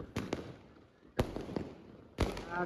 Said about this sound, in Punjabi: ਪੂਰੇ ਪਟਾਕੇ ਚੱਲ ਰਹੇ ਆ ਪਿੰਡ ਦੇ ਵਿੱਚ